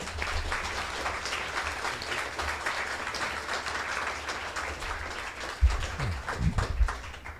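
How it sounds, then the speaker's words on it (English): An audience applauds speaker David Hill at the close of a Real Matter talk, a dense, steady wash of clapping throughout with a few louder thumps near the end. "Let's give David another round of applause"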